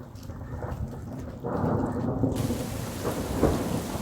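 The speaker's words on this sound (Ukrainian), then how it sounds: "Дуже несподівано накрило нас дощем. Ого, ще й блискає. Зараз буде бабах." Steady rain pours down while a deep roll of thunder swells and rumbles through the middle, loud and close, with no voices, in Cappadocia, Turkey.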